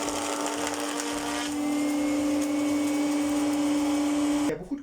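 Scheppach HD12 chip extractor running with a jointer-planer, a steady loud motor drone with a sustained tonal hum, cutting off abruptly near the end.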